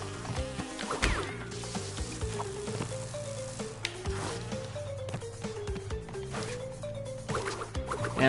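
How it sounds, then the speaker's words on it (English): Bees buzzing in Crash Bandicoot N-Sane Trilogy, a fluttering insect drone mixed with plinking, droplet-like game music and effects at moderate level. "Now running away from the bees,"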